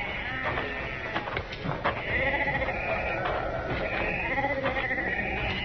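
Sheep bleat repeatedly as a radio drama sound effect in a Western, loud and close, with overlapping calls over a busy rural backdrop.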